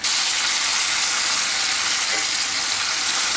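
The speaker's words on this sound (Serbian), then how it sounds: "Sad ćemo ovako, još malo pomalo ispeći i ostalu slaninu." Smoked bacon sizzling in a frying pan, a steady, dense hiss of frying fat that holds loud and unbroken throughout with no voices.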